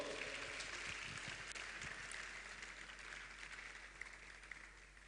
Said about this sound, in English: Please, a round of applause for him as he comes up.